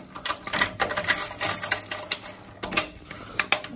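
Metal key scraping and clicking into an old cellar door lock, a close, busy run of small rattles and taps lasting several seconds, with brief louder knocks near the end.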